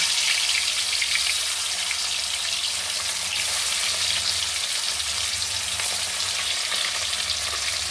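Hilsa fish frying in hot mustard oil makes an even, loud, close sizzle, a dense crackling hiss that runs unbroken throughout with no talking.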